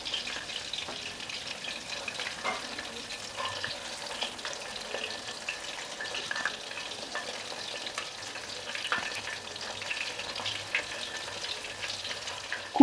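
Coated chicken leg pieces deep fry in hot oil with a loud, even, crackling hiss that holds steady throughout, with no voices.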